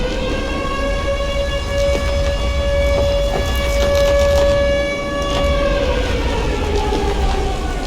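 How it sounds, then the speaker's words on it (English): A steady wailing siren drones on with a sustained tone and harmonics, loud and continuous with a slight swell, over a low rumbling background. "I'm gonna go ahead and get rid of this siren because that's annoying."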